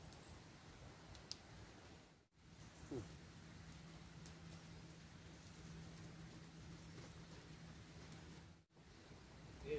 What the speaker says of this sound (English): you can feel the rain ever so slightly coming down